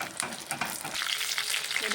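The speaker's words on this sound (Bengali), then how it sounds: "উল্টে পাল্টে ভালোভাবে ভেজে নিচ্ছি" Ridge gourd pieces frying in hot oil, a close crackling sizzle with spatula turns and scrapes scattered through, no talk.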